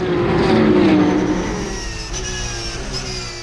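A pack of race cars accelerating together at a rolling start at the Paul Ricard circuit at Le Castellet, loud overlapping engine roar rising, then easing as the field pulls away.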